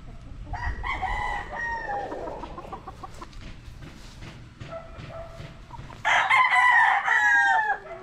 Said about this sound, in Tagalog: ito yung isang Gilmore Hatch over Papay Gray